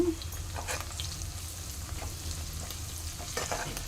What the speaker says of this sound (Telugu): ఒక టూ మినిట్స్ వేయించుకోండి ఆనియన్ గోల్డెన్ రోస్ట్ వచ్చేంత వరకు వేయించుకోండి